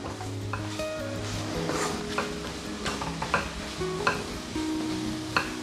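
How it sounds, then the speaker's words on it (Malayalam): Spice powders sautéing in a little oil for a chicken curry with green chillies and pepper, continuous sizzling with clinks and scrapes of a spoon stirring in the pan, close and steady, no voices. "ഈ മസാലപ്പൊടികളുടെ പച്ചമണം മാറുന്നത് വരെ നമുക്ക് നന്നായിട്ടൊന്ന് വഴറ്റിയെടുക്കാം."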